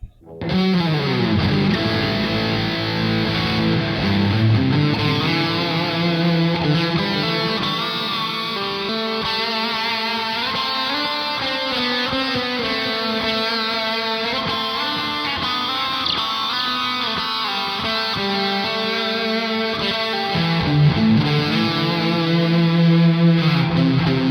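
A distorted electric guitar plays a continuous lead line with sustained notes and fast runs, loud and saturated with echo.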